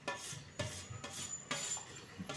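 Brinjal and potato curry mixed by hand with tempering, salt and chilli: a run of scraping, rubbing strokes in a pan, with a brief pause between each stroke. Steady and close, with no talk.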